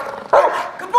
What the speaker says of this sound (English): how to get a protection dog to bark at a random person out in public